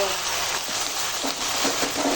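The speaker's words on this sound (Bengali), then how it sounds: "আর বাইরে চলছে মুসলধারায় বৃষ্টি" Heavy monsoon rain pours outside a kitchen, a continuous broadband hiss of water on leaves and surfaces, with a faint voice now and then beneath the downpour.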